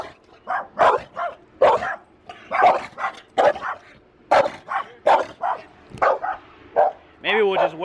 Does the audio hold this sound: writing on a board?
no